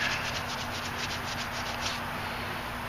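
Rag buffing lacquer on a homemade leather strop, a continuous close scrubbing rub with quick repeated strokes, steady and fairly quiet with no talking.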